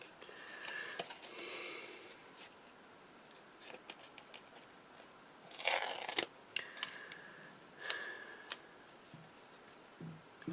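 Scissors snip through craft paper in a run of crisp, close cuts, quick bursts of snipping spread across the stretch with short pauses between them, and no talking over the top.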